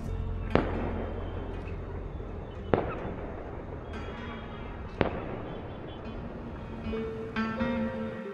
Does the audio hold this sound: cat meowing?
no